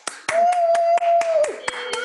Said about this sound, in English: Everyone can hit the spacebar and unmute themselves for 1 second and applaud.